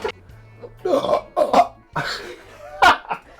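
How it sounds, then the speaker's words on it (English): A person burps several times up close, short throaty eructations with a few gulping and throat-clearing sounds between them. "So I burp and you hold that in front of my face"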